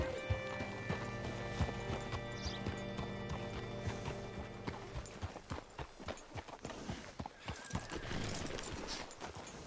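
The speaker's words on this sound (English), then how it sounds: "Hitch your horse up here." Horse hooves clip-clop in the video game Red Dead Redemption 2, a steady rhythm of close, sharp hoof strikes that grows busier as the horse moves on, with a faint musical hum early on.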